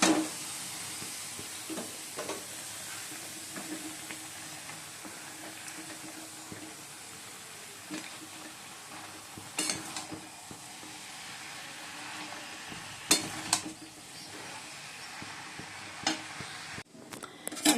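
Cabbage is stir-fried with fried potatoes and spices in a pan, producing a faint, steady sizzle with occasional scrapes and clinks of a spatula over about eighteen seconds, without talk.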